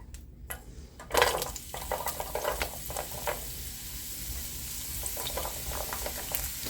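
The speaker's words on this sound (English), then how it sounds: "Add a little bit of oil. Okay, I'm going to go ahead and add my celery and green onion." Celery and green onion hit hot oil in a pan for a shrimp stir fry, giving a sudden sizzle that settles into a steady frying hiss with occasional clinks and stirring scrapes nearby.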